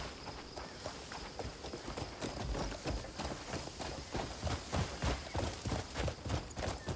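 Horse hooves clip-clop at a steady trotting rhythm in the video game Crimson Desert, close and fairly loud, with the beat quickening toward the end.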